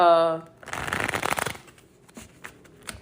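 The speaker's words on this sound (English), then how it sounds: "I started shuffling and was moving past." Tarot cards shuffled close up: a dense, rustling riffle for about a second, followed by a few sharp card taps and flicks, with a brief voice or tone at the start.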